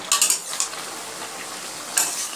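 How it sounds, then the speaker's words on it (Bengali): Mutton is sautéed and stirred in a pot. A spoon clatters against the metal in quick bursts at the start and again about two seconds in, over a soft, continuous sizzle with no talking. "ঢাকনা চাপা দিয়ে মাংসটাকে আমি কষাতে থাকবো।"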